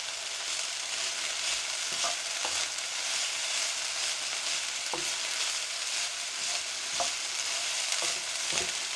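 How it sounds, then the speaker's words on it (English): Vegetables stir-frying in a hot pan over turned-up heat give a steady loud sizzle throughout, broken by occasional soft knocks and scrapes as they are tossed. "Just going to crank it up just a little bit more, just to get these veggies cooked properly."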